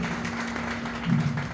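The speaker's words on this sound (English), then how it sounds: "so please big round of applause for him." Audience applause greets an honored elderly guest at a book launch event: a steady wash of clapping that swells slightly near the end, with no talk over it.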